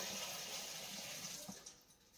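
Water running steadily from a kitchen tap while a pot is washed after baking apples, a soft continuous rushing that starts to waver and fade near the end, with no talk.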